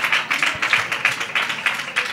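A crowd applauds a guest at a Seville Feria fashion segment, dense steady clapping with rhythmic swells, fairly loud and without talk.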